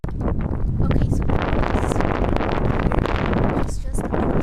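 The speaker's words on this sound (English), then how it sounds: "it's still very windy" Strong wind blows outdoors on a city street, roaring in loud continuous gusts that buffet the microphone, with no clear speech over it.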